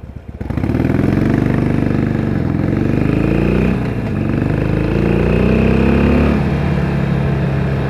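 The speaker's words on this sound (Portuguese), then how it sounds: "Lima de Harley, Lima Harleiro. De Harley Davidson." A Harley-Davidson 883R motorcycle engine idles with a deep, loud, steady rumble that rises and dips slightly as it is revved, up close.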